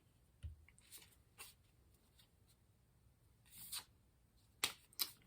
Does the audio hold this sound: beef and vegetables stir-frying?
no